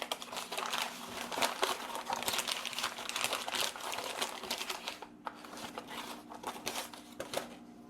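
Paper crinkles and rustles close up in busy, continuous bursts, then softens into scattered crackles as the wrapping is pulled away from a new hand plane.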